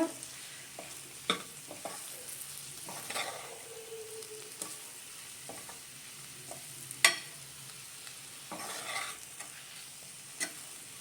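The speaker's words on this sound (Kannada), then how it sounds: "ಚೆನ್ನಾಗಿ ಫ್ರೈ ಮಾಡ್ಕೊಬೇಕು, ಹಸಿ ವಾಸನೆ ಹೋಗಬೇಕು." Spices and coriander powder fry in hot oil for radish sambar, a soft continuous sizzle broken by scattered stirring scrapes and taps, one louder clink near the middle, and no voices.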